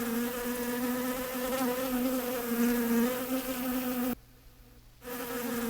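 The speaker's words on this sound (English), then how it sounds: "A bee makes this sound." A bee buzzing with a steady droning hum, close and continuous, cutting out briefly near the end before resuming, with no voices.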